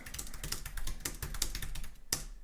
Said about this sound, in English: Let's just type this in.